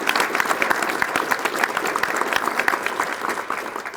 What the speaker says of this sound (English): So let's give SLED a round of applause.